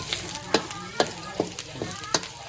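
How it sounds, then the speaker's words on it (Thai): Garlic and shallots stir-frying in a hot pan for Thai canned-fish chili paste, a bright sizzle punctuated by about six sharp spatula scrapes and clacks at an uneven rhythm, close up. "คั่วไปให้ กระเทียมกับหอม ดูออกเหลืองๆนิดนึงนะครับ"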